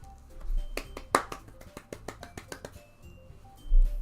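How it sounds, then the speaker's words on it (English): Sparse, crisp applause from a small group of four in the visual novel game Doki Doki Literature Club Plus, a handful of separate sharp claps spread unevenly over the stretch with low background quiet between them. "The four of us applaud."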